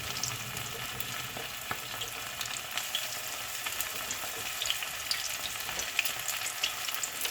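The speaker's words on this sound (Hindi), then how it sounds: "चिकन हमारा अच्छे तरीके से फ्राई हो रहा है।" Marinated chicken pieces frying in hot oil, a continuous soft crackling sizzle with small pops and stirring touches, heard alone without talk.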